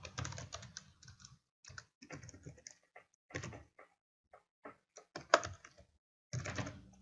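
Quick bursts of keystrokes on a computer keyboard as a CAPTCHA code is entered during a login, irregular clusters of clicks separated by short pauses, close and fairly quiet.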